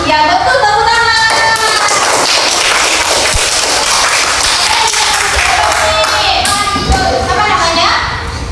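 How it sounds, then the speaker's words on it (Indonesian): Schoolchildren clap together in an Indonesian language classroom during a teaching session, a loud, busy patter mixed with children's voices and some thumps, and speech running through it. "Ya betul, tepuk tangan."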